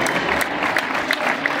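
Short burst of outdoor crowd clapping at a charro arena event in Ciudad Juárez, scattered claps rising above a busy background murmur.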